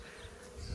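Bees from a beehive inside a Telstra pit in Streatham buzz faintly and continuously during the hive's relocation, a soft, steady hum with no speech.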